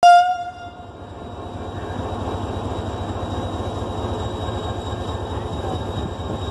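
Mehran Express passenger train hauled by locomotive 8215 HGMU sounds a loud, brief horn blast, then settles into a steady, continuous rolling rumble of wheels and carriages nearby.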